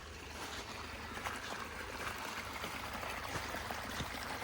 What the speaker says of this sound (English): that's because all that water is running down this path.